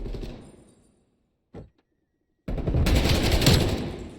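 Rapid bursts of automatic gunfire in Call of Duty Black Ops Cold War during a competitive match, a short burst, silence, a brief shot, then a dense sustained volley of close fire.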